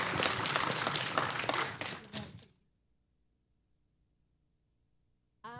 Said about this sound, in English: Please clap for them for their work.